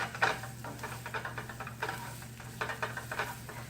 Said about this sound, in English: I'm going to show you right now how to stir the pan